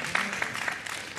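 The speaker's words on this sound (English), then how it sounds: "the fact that I'm getting applause for that is a statement in itself" Audience at a talk on economic equality, applauding in a brief burst of steady clapping that fills the room at close, moderate loudness.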